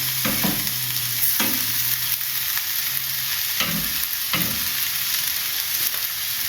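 Ackee and salt fish tossed and cooked in a pan, steady close sizzling with periodic scraping stirs of the spatula, no speech.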